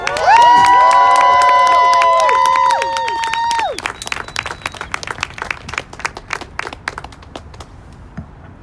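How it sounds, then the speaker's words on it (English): A crowd at the Force the Vote rally in Washington DC cheers loudly with sustained whoops and shouts, then the cheering fades into scattered clapping that tapers off. "Savage Joy, give her a big round of applause"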